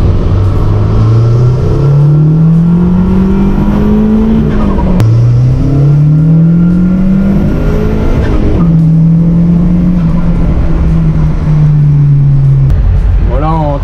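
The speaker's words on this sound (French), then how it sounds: "Le clac-clac qu'on entend c'est l'échappement qui cogne." A car engine with loose stack exhausts revs in repeated rising pulls while the exhaust knocks with a steady clack-clack. The sound is loud and close, with a brief drop between each pull.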